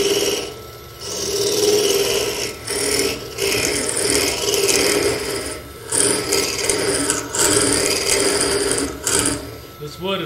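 A hollowing tool cuts into very dry wood inside a lathe-turned hollow form, giving a steady rasping, scraping drone that runs almost continuously with brief pauses as the tool shifts.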